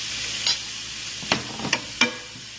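Chicken pieces fry in a pan for macaroni with a soft, steady sizzle, broken by a few sharp clatters as a utensil stirs and scrapes through them.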